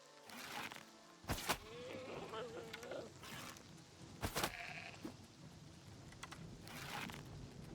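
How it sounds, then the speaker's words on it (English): Sheep in the video game Oblivion Remastered bleat repeatedly, several wavering calls scattered over game ambience, with a voice talking at points. "Sheep!"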